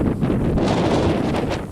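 Strong blizzard wind from a New England bomb cyclone in Connecticut buffets the microphone in loud, continuous roaring gusts with no voices.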